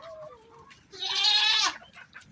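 A billy goat gives a single loud, nasal bleat close by, lasting under a second, after a brief lower call.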